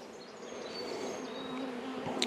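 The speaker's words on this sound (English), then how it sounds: "I see a couple of red wasps walking around or flying around." Red wasps and honey bees buzz around a new hive: a continuous close drone of wings with overlapping tones that rise and fall as insects fly near, steady and fairly quiet with no talk.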